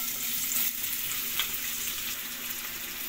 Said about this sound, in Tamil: தேவையான அளவு எண்ணெய் ஊற்றியாச்சு. இப்போ வெங்காயம் சேர்த்துக்கலாம்.